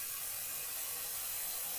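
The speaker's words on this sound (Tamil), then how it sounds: "இஞ்சி பூண்டு நல்லா வதங்கட்டும்" Ginger garlic paste sautés in a pan for biryani with a soft, steady hiss and faint sizzle. The sound is quiet and continuous, with no talking.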